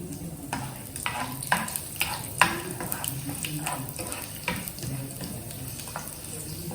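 Peanut chutney being stirred in a pot with hing and raw tamarind, giving a soft, irregular scraping and clinking from the spoon over a faint sizzle, with a few sharper knocks and no talk.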